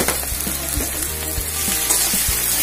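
Potatoes and banana flower fry in a pan with turmeric and salt, a close, steady sizzle punctuated by rhythmic spatula knocks and scrapes against the pan, with no voices.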